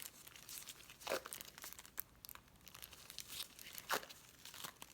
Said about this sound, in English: I'm going to secure this section again with my tape.